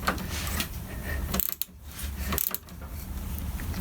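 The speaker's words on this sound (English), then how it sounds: "then we'll torque down the actual handlebar clamps themselves to the yoke" Wrench ratcheting on handlebar clamps at the yoke of a crash-damaged Suzuki GSF 1200 Bandit, close loud clicking in short bursts separated by brief pauses, with no talk.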